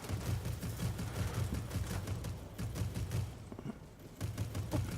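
Heavy aircraft guns from an IL-40P jet in a flight combat game fire in continuous rapid bursts, a dense low rattling fusillade that runs almost the whole time with brief pauses.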